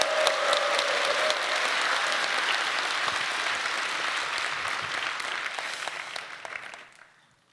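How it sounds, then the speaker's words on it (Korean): At a church gathering, a congregation applauds with dense, sustained clapping that holds strong for several seconds, then fades and dies away near the end. "하나님께 영광의 박수 올려드립니다"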